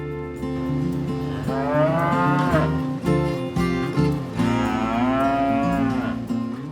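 A rare breed of cattle from United States specialty farms gives two long, loud, close moos, each rising and falling in pitch, with no other sound.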